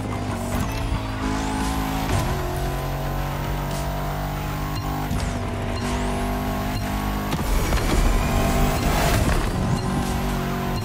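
A car in the racing video game The Crew Motorfest drives at speed, its engine droning steadily while tires squeal repeatedly through a series of corners, loud and continuous.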